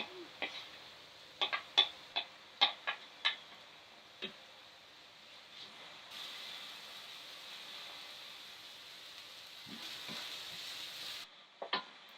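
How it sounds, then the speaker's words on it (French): Onions sweat in hot olive oil in a pan, heard as faint sizzling with scattered sharp ticks and taps early on, then a soft steady hiss that fades before a couple of closing clicks. "Quand la poêle est bien chaude, vous mettez vos oignons à suer."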